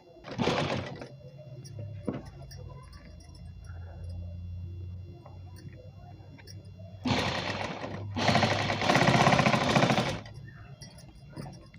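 A sewing machine stitches a four-panel petticoat in three runs: a short burst at the start, then two longer ones near the end, close and fairly loud, with quiet handling of fabric between.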